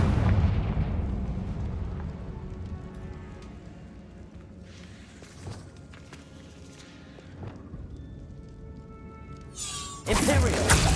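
A Confringo blasting spell fires in the Hogwarts Legacy video game. Game music and ambience play throughout, and near the end a loud, sudden broadband blast cuts in and keeps roaring.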